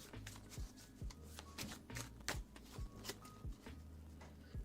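Playing cards are shuffled during a magic stream, with quiet, rapid riffling bursts and soft repeated flicks in a steady rhythm, close but faint, with no talking.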